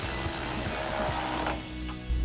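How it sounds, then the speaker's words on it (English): A ratchet with a 15mm socket tightens an exhaust hanger on a Silverado 1500 during a Borla S-Type dual exhaust install, heard as a steady close mechanical whir and clicking that cuts off near the end. "We're gonna grab our ratchet 15mm socket and tighten down our hanger."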